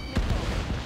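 A missile launch from a fighter jet in Ace Combat 7, a short, punchy whoosh and boom over steady engine rumble, brief and fairly loud.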